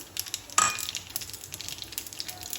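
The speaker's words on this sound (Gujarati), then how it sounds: "રાઈ જીરું એડ કરી દીધા પછી રાઈ જીરું તતરી જાય" Mustard and cumin seeds spluttering in hot oil for a tempering, with a dense crackle of small pops and one sharper burst near the start, steady and close throughout.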